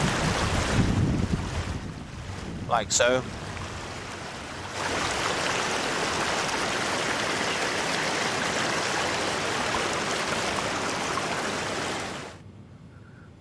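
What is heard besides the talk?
rain in a video game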